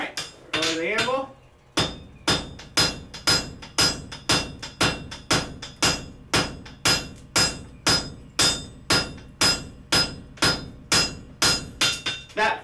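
Hammer blows ring out on wrought iron over an anvil as a face is squared up, a steady run of about twenty loud, evenly spaced metallic strikes after a brief opening scrape, close and with no talk.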